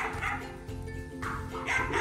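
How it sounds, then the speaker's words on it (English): Dogs bark in short yapping bursts, with small yips and a whimpering note mixed in, close and fairly loud over about two seconds with no talking. "Barking canines are in the way."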